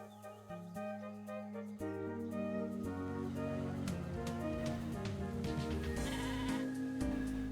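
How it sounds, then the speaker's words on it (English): Sheep bleat in the farming shop game Discounty, a few clear game-sound bleats standing out over a steady background of soft game music. "there's a sheep out there"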